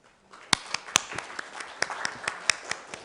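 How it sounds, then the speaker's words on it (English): Sparse applause from a small conference audience welcoming a speaker on icing models, a handful of distinct sharp claps spaced irregularly, nearby and quiet, with no talk over them. "Please welcome Dr. Jan Lichtstein with a big round of applause"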